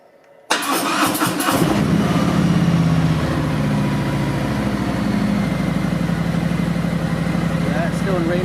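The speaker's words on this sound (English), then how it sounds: "So I'm going to start the engine." A Harley-Davidson motorcycle engine cranks and fires up sharply after a brief quiet, then settles into a steady, loud, close idle with a low rhythmic throb; a voice talks briefly over it.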